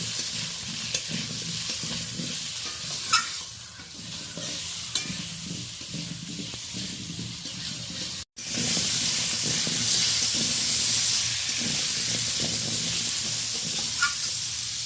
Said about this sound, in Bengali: তারপর ওলকপিটা তুলে দিয়েছি ভেজে নেওয়ার জন্য